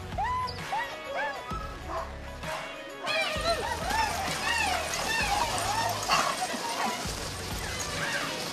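Sled dogs at a checkpoint in Dawson yip, bark and whimper excitedly, a busy overlapping chorus of high cries close by, with people talking in the background.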